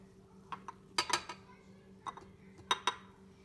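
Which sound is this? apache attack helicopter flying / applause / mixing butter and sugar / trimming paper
mixing butter and sugar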